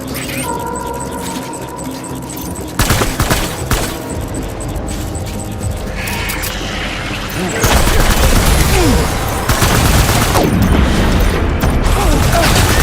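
Gunfire in Death Stranding, rapid bursts of shots and booms that grow denser and louder midway, with a voice shouting over the continuous fire.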